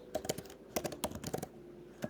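Fingers type quickly on a computer keyboard, a close, crisp run of clustered key clicks with short pauses between bursts and no voice.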